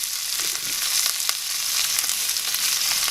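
A steak sizzling loudly in a cast iron pan with melting butter, garlic cloves, rosemary and thyme, a steady close hiss and crackle with occasional spattering pops, no voices.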